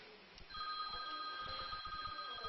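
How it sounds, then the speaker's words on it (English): A telephone rings faintly in a room during a polishing session. A thin, steady electronic ringing tone continues through the clip, with soft low background noise and no voices. "Let me pause this and answer my phone."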